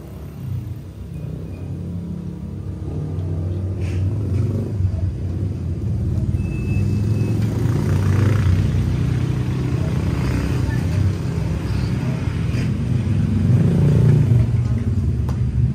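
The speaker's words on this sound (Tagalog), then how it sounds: "Nakakabit na yung original silencer." A Brutus motorcycle fitted with its original silencer exhaust idles and rumbles steadily, the low engine throb swelling slightly louder over time with some mechanical clatter.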